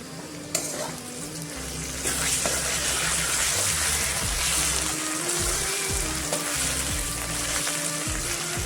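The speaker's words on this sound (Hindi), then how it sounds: "आलू को भी मैं 2 मिनट फ्राई करेंगे।" Potatoes with ginger-garlic paste and green chillies fry in a pan. A steady close sizzle rises after a couple of seconds, with light stirring scrapes and no talking.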